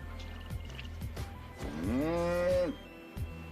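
A cow moos inside the video game Albion Online. One long, rising, drawn-out low moo stands out clearly over a steady game background, with a few short thumps before and after it.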